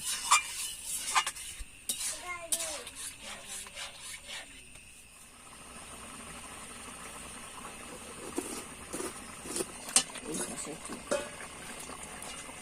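Taro flower sour curry stirred in a pot after tamarind water is poured in, with repeated scraping and rubbing strokes of a spoon against the pot over a low bubbling hiss, and intermittent clinks.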